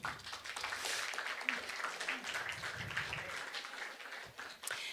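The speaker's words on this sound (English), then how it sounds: "So round of applause for all of you." An audience claps steadily at a talk, a dense wash of hand claps sustained throughout at moderate volume, with some murmuring mixed in.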